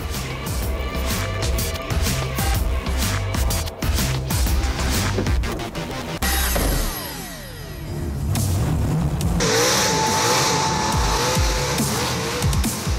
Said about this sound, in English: a NASCAR motor. So it's a V8. It is super fast. Whenever I put my foot down, it just goes.